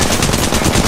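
Rapid gunfire in the battle royale game Apex Legends hits the player, a loud, dense burst of machine-gun shots filling the moment with no talk over it.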